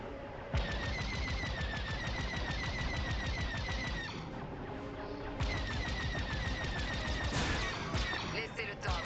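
Rapid bursts of laser cannon fire from a starfighter in Star Wars Squadrons on Xbox One X, loud machine-gun-like volleys of sharp repeated shots in two long runs with a short break between them, with talk mixed in.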